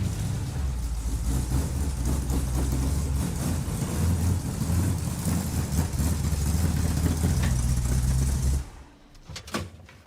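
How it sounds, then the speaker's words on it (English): A large motorhome engine runs loud and rough, revving with a steady throbbing drone, then cuts off abruptly near the end, leaving a few faint clunks. "This thing revs pretty good for a motorhome motor."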